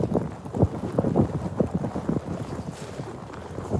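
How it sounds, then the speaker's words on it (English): Strong gusting wind in a heavy winter snowstorm, buffeting the microphone in a steady low roar with repeated louder bursts, close and continuous with no talking. "It is windy."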